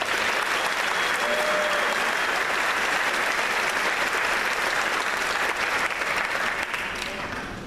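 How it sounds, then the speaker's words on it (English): An assembly audience applauds public officials, a full room of hands clapping in continuous, even applause that holds loud for over seven seconds before easing slightly at the end. "Can we give them another round of applause?"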